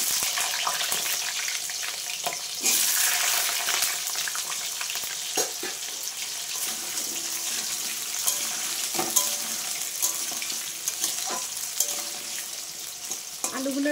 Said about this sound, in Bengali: এবার যে আলুগুলো কেটে রেখেছিলাম আলুগুলো দিয়ে দিচ্ছি।